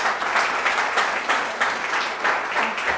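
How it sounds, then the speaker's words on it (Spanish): A crowd at an education symposium in Costa Rica applauds steadily for several seconds, a dense wash of many hands clapping with slight swells, no voices over it. "Y de nuevo aplauso."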